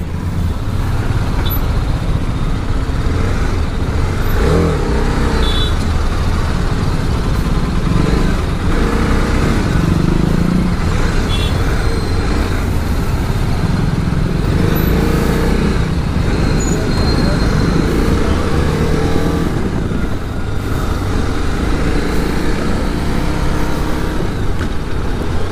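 A 2019 TVS Apache RR 310 motorcycle with slipper clutch cruising smoothly at around 30-40 km/h, its steady engine drone mixed with wind and road noise, loud and continuous throughout, with a rider talking over it.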